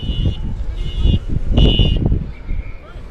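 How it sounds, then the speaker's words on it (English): An alarm goes off during a country football league match, sounding as a repeated high electronic beep in short bursts over general crowd and field noise. "Someone's alarm's gone off."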